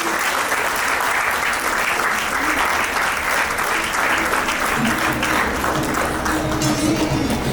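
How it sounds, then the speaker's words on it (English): A loud, full round of applause rises from a large audience at a teachers' awards ceremony, a continuous wash of clapping that holds steady throughout with faint cheering and voices mixed in. "Give them a big round of applause, please."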